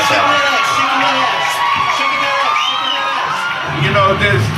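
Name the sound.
excited crowd screaming outside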